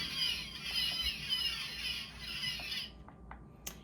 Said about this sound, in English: these are gulls or seagulls